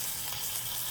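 Pot roast meat sears in a hot pan, browning on its sides, with a soft, steady sizzle that stays quiet and continuous throughout.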